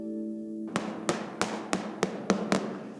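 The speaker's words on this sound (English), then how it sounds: "using the hammer to understand if in the cheese there's a kind of mistakes, like little cracks" Hammer tapping a wheel of aged Parmigiano Reggiano to check for cracks: seven evenly spaced, sharp hollow knocks in steady rhythm, close and clear after a brief low tone.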